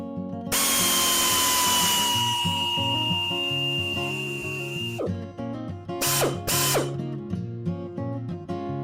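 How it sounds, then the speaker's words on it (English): A power drill whines loudly and steadily for several seconds drilling out a rivet on a Triumph TR8, then stops, followed by a few short metallic clicks and rattles up close. "Should be able to drill this one out."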